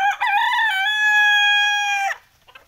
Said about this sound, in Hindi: सब देसी मुर्गी मुर्गा है, कैसे बाहर हरा घास खा रहा है